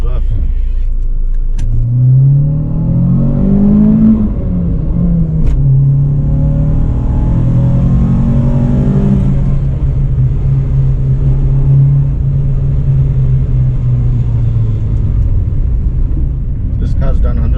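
A Renault Clio Sport 182 with 146,000 km on it pulls away and revs up through the gears, the engine note rising and falling loudly in the cabin, with someone talking over it.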